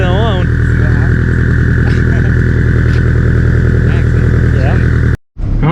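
A BBR 700 dirt bike engine runs loudly and steadily nearby during break-in, a throbbing drone with voices talking over it before it cuts out abruptly.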